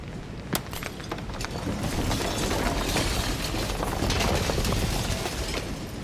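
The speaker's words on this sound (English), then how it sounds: "And then the shattering" Shattering effect from the video game Slay the Princess: a sharp crack followed by a dense, swelling roar of breaking debris that builds steadily and stays loud to the end.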